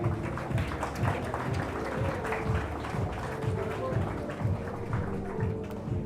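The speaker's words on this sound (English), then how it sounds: "Audience kindly applaud." Applause from the audience at a medical college graduation day ceremony runs continuously beneath a loud, rhythmic background of booming music or amplified sound, the clapping a dense wash under it.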